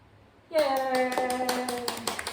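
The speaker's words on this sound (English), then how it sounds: "So you're clapping" Hands clap in a children's piano group, a run of quick close claps in uneven rhythm over a sustained tone, with a voice speaking alongside.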